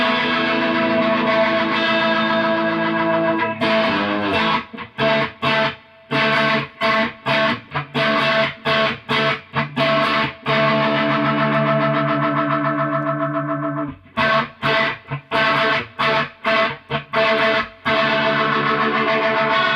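Slightly distorted electric guitar through a Strymon Lex V2 rotary speaker pedal, with the dry knob turned up, playing sustained chords and then a run of choppy staccato strums, with a swirling, gritty tone and loud, close sound and no voices.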